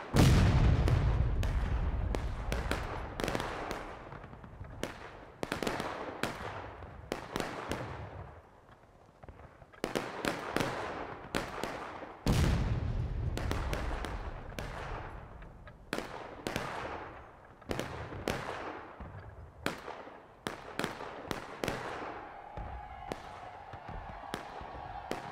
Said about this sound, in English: I'm getting suppressed by the enemy cannon shots.